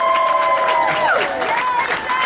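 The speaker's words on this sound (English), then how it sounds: "I want to have a big, huge round of applause for Debbie Ginsburg" A crowd at an outdoor solidarity rally against antisemitism in West Hempstead applauds and cheers in a loud, dense spread of claps, with voices whooping and calling out above the clapping.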